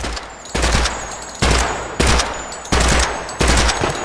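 Burst-fire gun being test-fired in the video game Project Silverfish, with five sharp, loud bursts of rapid shots spaced roughly half a second to a second apart, each followed by a ringing decay.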